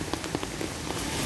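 Heavy rain pours steadily in Hong Kong, a dense, loud hiss with scattered drop patters throughout and no talk.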